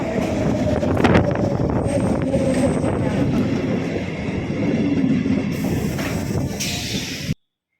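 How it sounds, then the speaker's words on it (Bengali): A train rumbles loudly and steadily close by, with broad mechanical noise and a high whine, as it pulls into Bankura station; no one speaks. "ট্রেন ঢুকে গেল"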